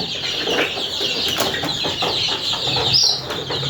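Young native chicks, kept apart from the grown hens, cheep and cluck in a steady stream of thin high peeps with a few sharper chirps, close by and without talk.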